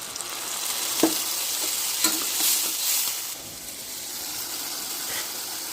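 Shrimp frying with yogurt masala, chopped onion and garlic in a pan, a loud sizzle with a few sharp scrapes and clinks of a spoon stirring, fading slightly toward the end, no talk.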